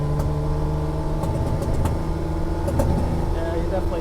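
A Ferrari 330 GT Series II runs with its carburetors lean and unhappy, the engine droning loudly and steadily from inside the cabin with a slight rise in revs, and a voice speaks over it.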